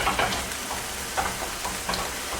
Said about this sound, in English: So I really just scramble the eggs in here because I just find it's easier for me